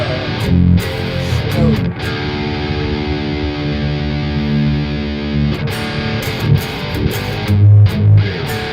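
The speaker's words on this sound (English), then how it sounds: "And now actually what you're talking about is this overdrive channel right here." A loud, overdriven electric guitar plays through an amplifier's overdrive channel, sustained, distorted chords ringing out thick and buzzy, with a few sharper strums in between.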